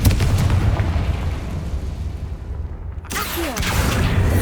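A Confringo fire spell explodes in Hogwarts Legacy, a heavy booming blast with a crackling roar that briefly drops away before another burst of rumble and debris, loud and close.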